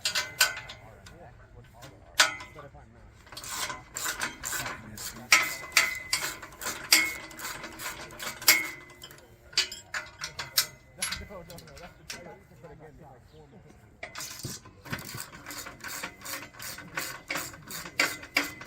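Hand tools loosen fasteners while a High Power Pad is taken apart, giving repeated sharp ratcheting clicks and metallic clatter in irregular bursts close by, with a person talking over the work.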